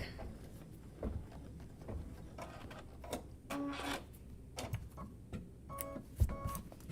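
An embroidery machine sews a placement stitch line for a drawstring bag, producing quiet, rapid mechanical needle ticking and whirring in irregular bursts with small clicks, fairly faint and without talk.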